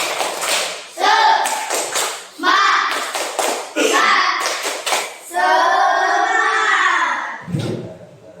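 A classroom of pupils does a rhythmic spirit clap in unison, with quick patterned hand claps and group chanting voices alternating in short loud bursts.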